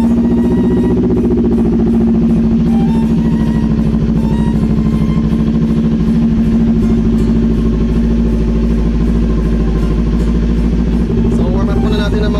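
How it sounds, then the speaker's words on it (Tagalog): Kawasaki Ninja 400 motorcycle idling steadily through a warm-up in a cluttered garage, a low, even engine drone running throughout with light clatter, loud and close, with some faint background activity. "So every other day, as much as possible, may warm up natin yung mga motor natin."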